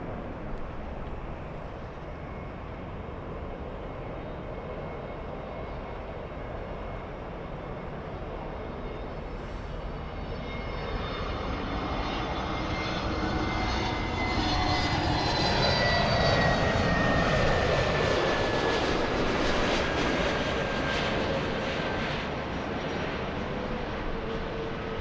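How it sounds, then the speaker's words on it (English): American Airlines jet arriving at LAX from Honolulu, starting as a faint distant engine hum that builds into a louder roar with a rising whine as it approaches, then eases slightly. "Next arrival, we have American 164 flying in from Honolulu."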